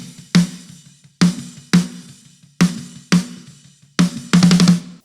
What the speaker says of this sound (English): We have the actual snare mic, which sounds like this.